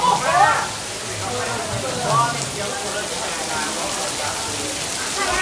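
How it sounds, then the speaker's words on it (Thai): Rain falls steadily in a hiss over a tented outdoor stage area at night, with voices talking over the patter at the start and midway. "พี่น้องครับฝนตก"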